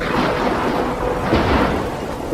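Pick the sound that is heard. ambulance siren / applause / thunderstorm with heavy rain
thunderstorm with heavy rain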